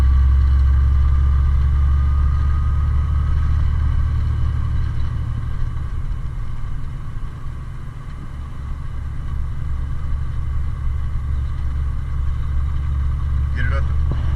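A truck engine, just shifted into eighth gear while float shifting, rumbles deep and loud, dipping slightly mid-way before settling into a steady drone.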